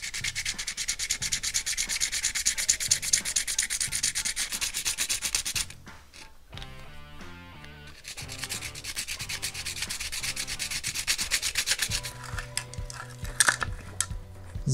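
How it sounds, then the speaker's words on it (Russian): Sandpaper rubs over the top and bottom of a homemade hardened resin rattlin pike lure, a steady close scratching stroke that pauses briefly midway, then resumes with lighter scraping and a few small clicks. "Верх и низ заматую наждачной бумагой."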